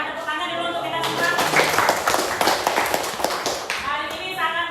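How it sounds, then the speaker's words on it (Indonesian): A classroom of students clapping together in a short burst, with children's voices talking before and after the dense patter of hands. "Tepuk tangan dulu untuk kita semua."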